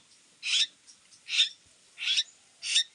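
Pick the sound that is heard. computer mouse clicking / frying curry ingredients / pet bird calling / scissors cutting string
pet bird calling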